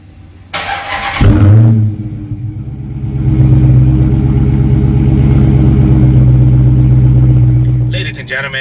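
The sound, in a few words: 2017 Dodge Hellcat Charger engine revving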